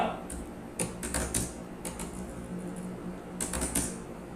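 Keystrokes on a computer keyboard while entering text in a word-processing document, coming in short irregular bursts of clicks separated by pauses, fairly close and moderately quiet against a low background hum.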